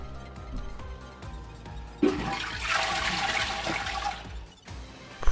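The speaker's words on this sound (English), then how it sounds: "Unless we could cut up the flushing sound effect." A toilet flush with a sudden loud rush of water that swirls and drains steadily for several seconds before cutting off, alone with no talking, meant as a sound effect for a point-and-click game.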